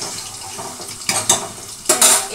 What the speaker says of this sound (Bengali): এদিকে পনিরটা একটু ওলট পালট করে নিই, মানে এপিট ওপিট করে ভেজে নিই।